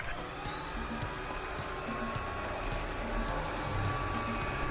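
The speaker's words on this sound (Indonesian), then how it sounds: "Dan ini dia performa sensor LiDAR pada robot vacuum Tomo R8." An Umeda Tomo R8 robot vacuum cleaner with LiDAR sensor runs in cleaning mode without its mop attached, giving a steady, faint motor whir and hiss with no talking.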